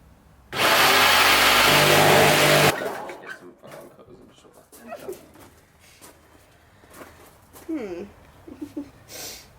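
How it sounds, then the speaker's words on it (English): A jigsaw fitted with a wood blade cuts into aluminium, a loud, harsh buzzing rasp for about two seconds, then stops, followed by quieter clatter and talking. "Attempt 1 at cutting aluminium. With a jigsaw. With a wooden blade."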